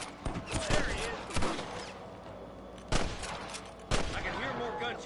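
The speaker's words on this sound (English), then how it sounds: "I can hear more gunshots." Gunfire in the Western video game Red Dead Redemption, several sharp shots cracking out at irregular intervals amid a rumbling outdoor backdrop, mid-distance and fairly loud, with someone talking between them.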